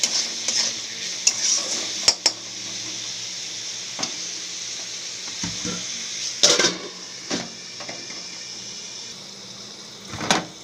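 Chopped ginger and green chilli sizzle steadily in hot oil, with a bright hiss throughout. Sharp spoon-against-pan scrapes and clinks break in at irregular intervals, close by.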